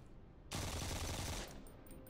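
Enemy gunfire in the Phantom Doctrine tactical video game: a single dense, loud burst of about one second, like a rapid volley, cutting off abruptly into quieter game ambience.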